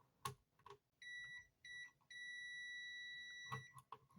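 A few short, faint electronic beeps from a multimeter in continuity mode, then a steady high-pitched tone that holds for about two seconds before more brief beeps.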